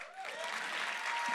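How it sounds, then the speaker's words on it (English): Audience clapping at a poetry slam, a steady wash of many hands that builds slightly over its short span, with faint voices and a thin whistle-like tone running underneath. "Come on, clap."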